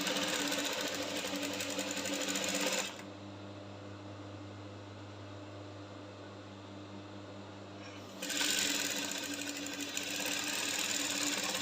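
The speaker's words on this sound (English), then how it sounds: "the first thing I'm going to do is to run a basting stitch" A sewing machine runs a basting stitch joining two layers of a lined corset yoke, whirring steadily and close, with a quieter pause in the middle before the motor speeds back up.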